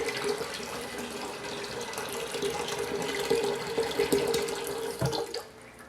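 Water running steadily from a tap into a pot being filled for home-brewing beer, a continuous splashing rush with a rising pitch as the pot fills, then cutting off near the end.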